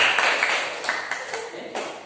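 Scattered hand claps from a classroom of students, light and uneven, mixed with lively chatter and voices throughout.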